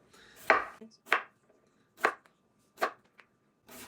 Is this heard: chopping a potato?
yes